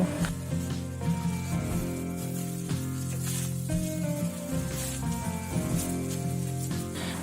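Leftover-rice hibachi fried rice is stirred and mixed with black pepper in a hot pan, giving a steady close sizzle that runs beneath continuous background music.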